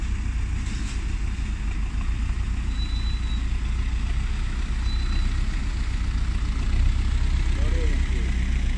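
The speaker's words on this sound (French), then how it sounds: "un tracteur et un camion qui traversent la rivière" Heavy engines of a tractor and a truck rumble and idle steadily throughout as they cross a river, with a continuous low drone and occasional faint high whines.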